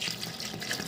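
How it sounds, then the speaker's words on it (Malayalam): Water poured into a pressure cooker holding washed chickpeas, a steady close splashing and trickling that fills the whole short moment, with no talk. "ഞാൻ കുറച്ച് വെള്ളം ഒഴിക്കുന്നുണ്ട് വേവാൻ വേണ്ടിയിട്ട്."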